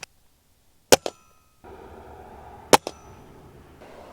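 Two sharp pellet shots from a Ruger Impact Max .22 air rifle snap out, each with a quick follow-up smack on a target, separated by about two seconds over a low steady background hum.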